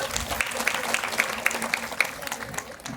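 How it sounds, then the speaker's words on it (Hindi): Loud applause for Srishti at a children's Tulsi Pujan event in India, a group clapping in a roughly even rhythm with a few sharper claps standing out, moderately distant and steady. "सृष्टि के लिए एक बार जोरदार तालियां।"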